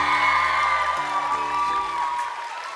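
Audience applause and cheering at a cosplay contest on stage at NärCon Expo Södertälje 2024, a steady, loud wash of clapping with some whoops that holds for a few seconds before starting to fade.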